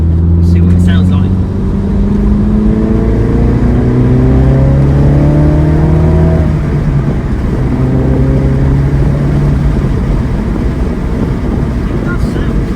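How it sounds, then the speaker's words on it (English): A small car engine drones loudly and climbs in pitch through the gears, with brief revs between shifts and wind rushing past. "When you sort of upshift, it gives you a little rev, like a slipper clutch"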